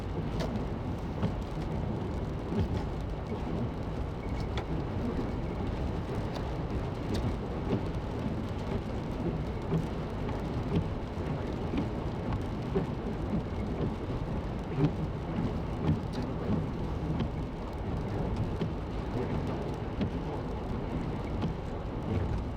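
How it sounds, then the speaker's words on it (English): Light rain blows against a car windshield on a snowy mountain road in Colorado on a fall day, a steady dense patter and hiss that goes on throughout, with road rumble underneath. "This is like the most annoying rain. It's just enough to really create issues on a windshield"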